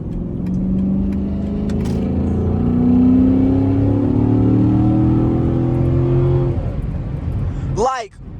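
A Chrysler 300 SRT8 accelerating in rush hour traffic: a loud, steady engine drone rising in pitch for several seconds, then easing off, with a short sharp chirp near the end.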